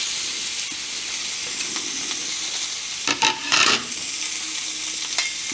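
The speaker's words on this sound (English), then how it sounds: "I have got the frying pan heated up." A steady crackling sizzle of pork jowls frying in a pan without added fat, close up, with a few louder bursts of spatter and scraping partway through.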